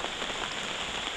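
Heavy rain falls in the mountains, a dense steady hiss of drops pattering on surfaces close by, continuous throughout with no talk.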